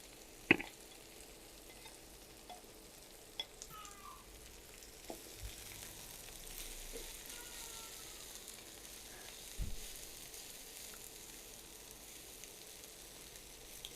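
Jute leaves fry and get stirred in a pan, giving a faint, steady sizzle with occasional soft clinks and scrapes from the stirring spoon.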